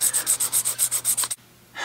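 Hand sanding smooths the edges of a set trigger part, about a dozen quick, rhythmic rasping strokes close up, then a brief pause before the rubbing starts again.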